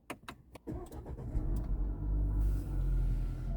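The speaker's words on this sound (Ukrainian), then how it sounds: "Запускаю двигун." An Opel Grandland 2026 engine starts after a few key and button clicks, then settles into a steady low idle rumble heard from inside the cabin, without speech.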